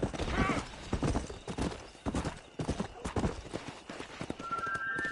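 Horse hooves clip-clopping in an uneven trotting rhythm, fairly close, with a short whinny and people's voices urging the horse along over the hoofbeats.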